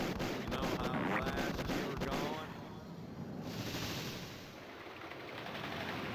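Dense bursts of video game gunfire in a CDI game, crackling rapid shots over a noisy, busy background that thins out slightly toward the end.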